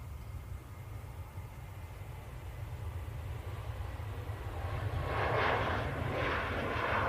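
A Jet2 Boeing 737 airliner at Manchester Airport gives off a steady distant engine roar that swells in the last couple of seconds as the jet noise rises, with no talking.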